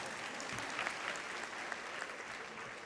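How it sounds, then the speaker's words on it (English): A graduation audience in a high school ceremony applauds with steady, dense clapping that holds evenly throughout, sounding somewhat distant and without talk. "Y'all supposed to clap right now."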